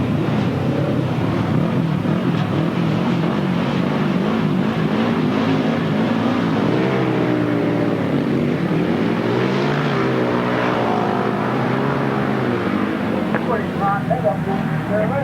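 Grasstrack sidecar outfits race at Stone in Oxney in 1993, engines droning and rising at a distance as they round the first turn, with a commentator talking over the noise.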